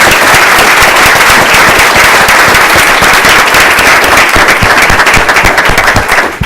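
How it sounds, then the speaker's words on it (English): A loud, dense burst of clapping fills the room as a school board meeting audience applauds, steady and unbroken for several seconds with no talking over it. "let's give him a hand of applause first."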